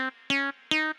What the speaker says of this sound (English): a Phrygian scale, it sounds like this